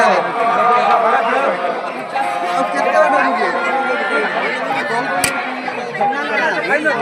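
Dense crowd chatter fills a festival dinner gathering, many overlapping voices forming a steady, loud babble throughout with no single voice standing out.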